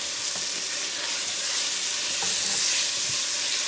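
Aubergines and peppers frying in a pan give a loud, steady sizzle with light stirring clatter throughout, no talk.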